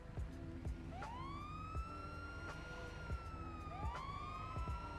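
An ambulance siren wails in a GTA roleplay game, rising in repeated sweeping tones over a steady low engine rumble and periodic clicks, loud and close, with no talking.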